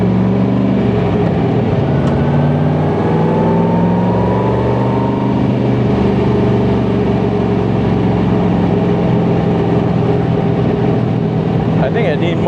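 Engine of a Beck Lister Corvette lightweight replica, with a freshly installed motor being broken in on a sunset drive, holds a steady, loud idle-to-cruise drone with rising and falling harmonics throughout, a voice talking over it.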